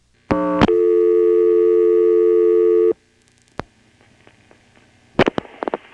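A 1977 NX1-E telephone exchange in Vanceboro, North Carolina, answers a dialed 3 with a loud, steady multi-tone signal of about two and a half seconds. It cuts off into near silence, then a few relay clicks follow, and a burst of switching clatter comes at the end.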